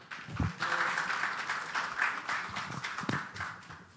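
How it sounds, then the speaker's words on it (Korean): A conference audience at a healthy-cities association general assembly claps in a steady, moderate wash for about four seconds, with a couple of louder close knocks and faint murmuring underneath. "뜨거운 박수로 환영해 주시기 바랍니다."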